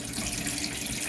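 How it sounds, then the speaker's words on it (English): Tap water pours in a steady, close rush as a hydroponic container lid is rinsed under the faucet, with no break in the flow. "Rinse the lid."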